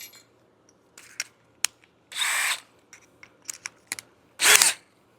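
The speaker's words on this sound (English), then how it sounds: "take my 3/8 inch drill bit, pop it in the drill, and drill a hole through the bottom of it" A power drill fitted with a 3/8 inch bit bores through the base of a pedestal fan in short, separate bursts, with the longer whirring runs standing out against quiet gaps and small clicks and handling knocks between them.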